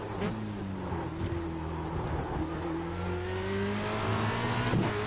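Formula Renault 2.0 racing car engine at Spa in a racing video game, a close, steady droning whine with pitch shifts as it works down through the gears and brief clicks between shifts.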